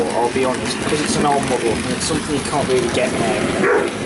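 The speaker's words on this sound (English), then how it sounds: "Excuse the dogs." Dogs bark several times in the background of an indoor room, repeated yaps and barks partly masked by someone talking steadily over them throughout.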